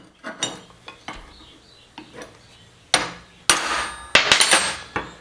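Hammer blows on a center punch marking steel bar stock in a blacksmith shop, a few light sharp taps at first, then several louder ringing strikes in quick succession, alone without talk.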